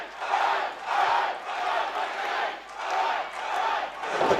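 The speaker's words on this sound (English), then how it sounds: "You can hear the electricity on this crowd" A wrestling crowd at the Full Throttle 2023 event cheers and roars in loud, swelling waves that rise and fall about every second, with no clear talk over the din.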